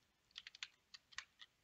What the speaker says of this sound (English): You can hear me just like hammering the enter key